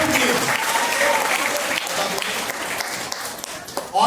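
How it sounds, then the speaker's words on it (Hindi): Loud sustained applause from a congregation at a church healing and anointing oil meeting, dense clapping filling the whole stretch and swelling again at the end. "जोरदार ताली बजाइए प्रभु के लिए।"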